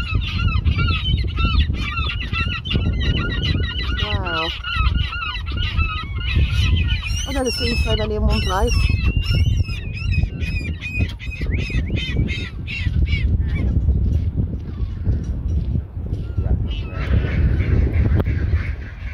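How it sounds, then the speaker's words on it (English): A large flock of Canada geese honks noisily and continuously, with ducks quacking among them, while a person speaks briefly over the din. "Ducks in Canadian geese."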